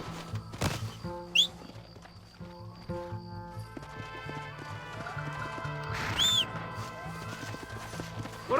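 Horses gallop in the Red Dead Redemption game, rapid hoofbeats clattering with a couple of loud whinnies over a busy background of music and effects.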